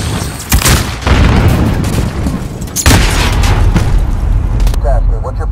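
A video game grenade goes off with a heavy boom, followed by another loud explosion and scattered gunfire in a combat scene, with a brief radio-style voice at the end.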